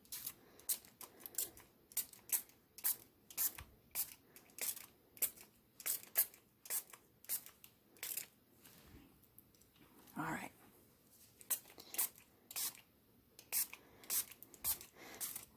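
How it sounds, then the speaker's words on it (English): A spray bottle spritzes in quick, repeated hissing bursts at a steady rhythm, close by, with a brief spoken comment midway. "let's see what this spray bottle does"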